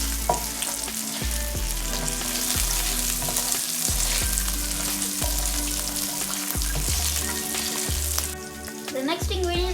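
Carrot rice is stirred and fried in a pan with a constant sizzle and stirring scrapes under loud, rhythmic background music with a pulsing bass beat.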